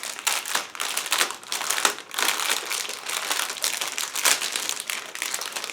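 Crinkly plastic bag holding 1/35 scale model kit sprues for an Abrams tank being handled and torn open, with loud, close, irregular bursts of crackling and rustling throughout.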